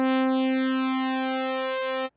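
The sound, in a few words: phasey sawtooth synth patch in GR8 plugin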